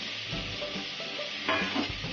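Fresh mint leaves sizzle and fry in a pan of ginger-garlic paste while being stirred, with a steady close hiss and a few scraping stirs.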